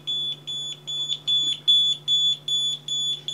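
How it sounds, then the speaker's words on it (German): A Shelly Flood water leak sensor sounds its alarm: a loud, steady series of high electronic beeps repeating in a quick regular rhythm, close to the microphone, with a low hum underneath and no talking. "provozieren wir doch einfach mal einen Alarm"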